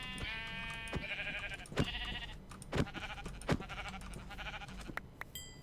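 Sheep in the video game Minecraft bleat repeatedly, with several wavering baa calls spaced a second or so apart, fairly quiet, alongside soft clicks and thumps of gameplay.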